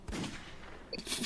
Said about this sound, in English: Can we not have gunshot noises?